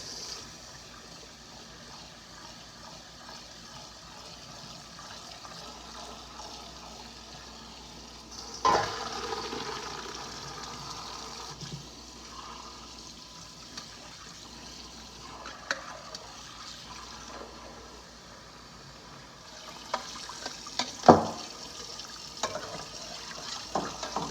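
Water drains from cooked pasta noodles being shaken in a strainer while making a bacon ranch pasta salad, a steady close rushing pour with louder splashing surges partway through.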